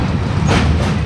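Humsafar Express train running on rails near Jalandhar in Punjab, a loud, continuous rumble and rattle heard from on board, steady throughout.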